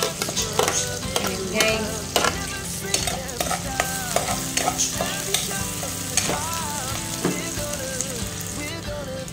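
Ginger and garlic sizzle in a hot pan for chicken in tomatoes, with frequent clanking stirs of a utensil against the pan and a brief voice speaking over the frying.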